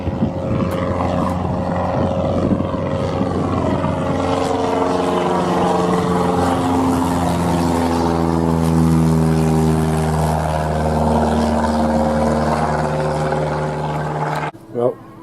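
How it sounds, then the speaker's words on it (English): A propeller plane drones overhead, its steady tones sliding downward as it passes nearby, loud and continuous before fading at the end. "Here comes Barry, the busy aeroplane again."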